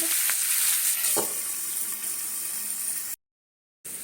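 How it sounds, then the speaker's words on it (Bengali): Onions fry in oil in a covered pan for a Bengali potol (pointed gourd) dish, a dense continuous sizzle up close with a few faint clinks, cutting off abruptly near the end before resuming. "দেখো পেঁয়াজটাকে সুন্দর করে ভেজে নিয়েছি আমি"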